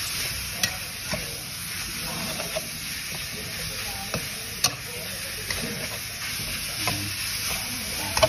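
Wild boar pork stir-fried in a pan, a steady sizzle with scraping stirs and occasional clicks of the utensil against the pan.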